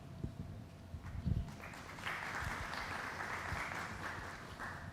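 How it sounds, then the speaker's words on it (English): Scattered audience clapping at a community event builds into a moderate, steady patter after a few isolated bumps, fairly faint and somewhat distant. "Y'all clapping for me to be quiet?"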